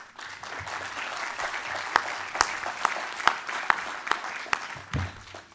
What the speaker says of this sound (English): please give him a round of applause, Mr. Ahmad Zia Mayar